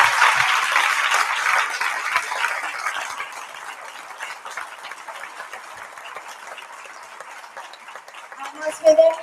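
Applause from an audience at a school prize-giving ceremony in a hall, strongest at the start and then gradually thinning into scattered claps as it fades, with a few sounds at the very end.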